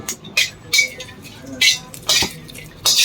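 Semi-cooked frog is dry-roasted in a pan, with repeated scraping and clattering of a utensil against the pan in irregular bursts, close and fairly loud, with a voice speaking between strokes.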